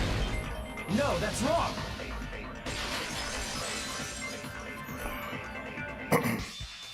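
A vase shatters in the Danganronpa 2 video game, a short sharp crash near the end, following a voice that shouts over steady game background sound.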